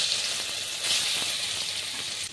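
Paneer pieces frying lightly in hot oil in a pan: a steady, close hissing sizzle that holds constant throughout, with no talking.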